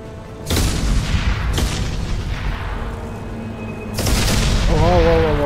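Mass Effect 2 Legendary Edition explosions go off in three heavy booms, each with a sharp crack and rumbling tail, with a brief voice near the end.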